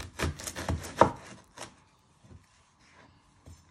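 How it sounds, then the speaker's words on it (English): A kitchen knife trims the end off a vegetable on a board, a few close, sharp chopping knocks in quick succession, then quieter scattered taps and handling sounds. "You're first going to chop your other end off"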